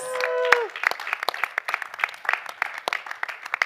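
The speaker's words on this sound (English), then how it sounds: "So big round of applause." Audience applause at a COP28 entrepreneurship event follows a brief voice and tonal sound, breaking into scattered, fairly sparse claps that continue unevenly to the end.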